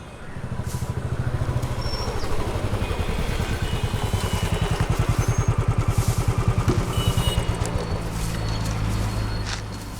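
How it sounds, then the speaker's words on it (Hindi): A motorcycle engine runs steadily nearby with a low, rhythmic put-put throb that holds at an even level for about ten seconds and eases slightly toward the end. "उस बाइक का इंजन सही कर।"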